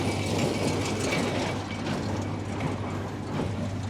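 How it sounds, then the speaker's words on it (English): An old square baler with a freshly sharpened knife cutting hay in the field, a steady loud mechanical clatter with rhythmic ratcheting and rumbling, continuous and close throughout. "I ended up sharpening the knife on the baler, and I think it's cutting a lot better on the cut side"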